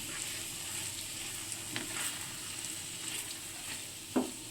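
Tofu and capsicum gravy being stirred in a pan, a soft continuous sizzle with a few light scrapes and a sharper knock near the end, close and with no talk.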